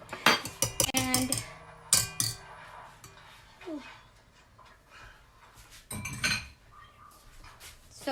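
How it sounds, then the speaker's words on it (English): Egg whites mixed in a bowl with a spatula, a few quick clinks and scrapes against the bowl in short bursts at the start, middle and near the end, close by, with a dog whimpering briefly between them. "I'm just gonna give it a quick mix with a spatula just to really get all the egg whites off the sides"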